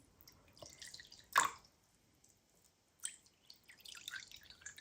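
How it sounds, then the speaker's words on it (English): Water poured into small bowls for mixing paint lands as a sharp splash and a few light drips, followed by a later stretch of soft trickling, close by and fairly quiet, with no one speaking. "I'll put some water into each of these bowls"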